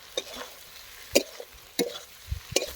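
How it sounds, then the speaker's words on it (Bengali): Fried potatoes are stirred into cooked spices in a pan for a vegetarian dish, giving soft scraping stirs with a few sharper clinks of the spoon against the pan and a faint sizzle underneath. "এখন আলুর সাথে ভালো করে মশলাগুলোকে মিশিয়ে নেব।"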